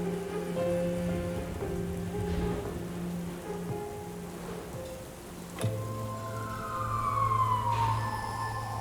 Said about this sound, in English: Heavy rain continued to pour